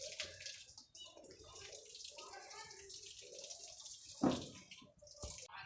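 A carpet is rinsed with water: quiet splashing and running water come in uneven bursts, with one sharper splash near the end.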